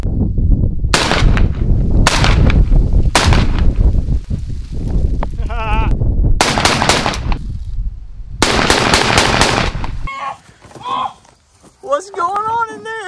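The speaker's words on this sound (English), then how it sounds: "All right, so Huck got an AK-47" Bursts of AK-47 gunfire in a video game hammer out loudly in repeated rapid volleys, then give way to people talking.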